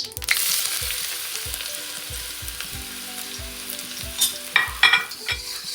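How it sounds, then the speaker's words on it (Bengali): Garlic fries in oil in a hot iron wok, a dense continuous sizzle with a regular low thumping of stirring strokes and a couple of louder scrapes near the end, no talk. "রসুনটাকে সুন্দর করে ভেজে হালকা লাল হয়ে আসলে"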